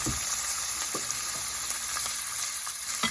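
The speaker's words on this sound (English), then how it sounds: "I got some Aransò. They call it salty fish right here. It's cooking there." Salted fish (Aransò) frying in a pan, a steady close sizzle with a few soft scrapes and stirs, no voices.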